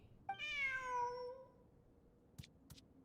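A cat-like creature in Genshin Impact gives one clear, drawn-out meow up close, followed by a few faint clicks and taps in an otherwise quiet scene.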